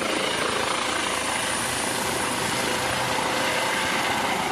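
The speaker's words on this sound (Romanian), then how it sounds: "elicopterul care îl transportă pe Michael Schumacher se ridică de pe pârtia de schi și pornește spre spital" A rescue helicopter lifts off from a ski slope at the French resort of Méribel, its rotor and engine making a loud, constant whine and thrum that stays close throughout, with no one speaking.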